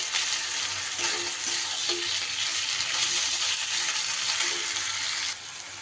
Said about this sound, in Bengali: পেঁয়াজের সাথে আদা আর রসুন ভালো করে নাড়াচাড়া করে কষিয়ে নিতে হবে যতক্ষণ না কাঁচা গন্ধ যাচ্ছে